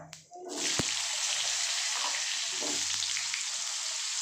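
Potatoes with capsicum and onion frying in a pan, a loud steady hiss and sizzle that bursts up after a brief quiet start and holds throughout, with a single sharp clink early on.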